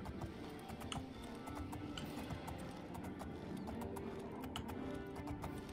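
Horse hooves clip-clopping steadily in Oblivion, a rapid, even trot of sharp taps over a faint background bed, with no talking.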